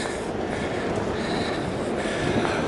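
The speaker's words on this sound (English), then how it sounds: "So that's my train." Passenger train at the Denver station, giving off a steady, dense rumble of rolling wheels and car noise, close and continuous with no talk over it.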